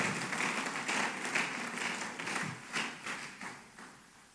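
A church congregation claps for several seconds during a Spanish-language sermon, a dense patter of hands that gradually thins and fades toward the end.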